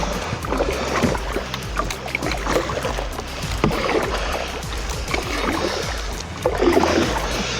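Canoe paddling along a coast, with steady rhythmic paddle strokes and water swishing against the hull, close and moderately loud, no talk.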